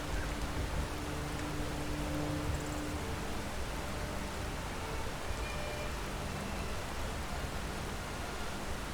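Steady rain summoned by a ring in Skyrim hisses evenly throughout, a soft, constant patter with no voices over it.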